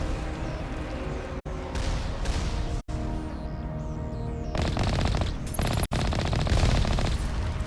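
Sustained rapid automatic gunfire in the video game Mass Effect on Insanity difficulty, dense loud bursts with a few brief gaps, continuous battle noise throughout.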